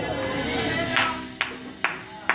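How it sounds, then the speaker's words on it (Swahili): A church congregation claps, heard as a few sharp separate claps spaced evenly near the end over crowd murmur, with a voice speaking underneath. "Umepigia Yona makofi sasa"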